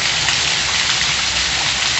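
Dense rain hammers a home's roof in Pernambuco's sertão, a continuous roaring patter near at hand with a few sharper drop hits and no talk.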